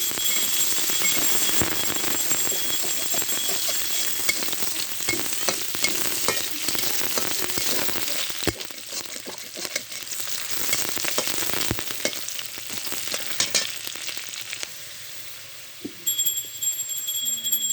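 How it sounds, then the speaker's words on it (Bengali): Chopped onion sizzles steadily in leftover fish-frying oil, a loud continuous crackle with occasional stirring scrapes throughout, no voices. "মাছ ভাজা তেলে আমি পেঁয়াজ কুচি দিলাম।"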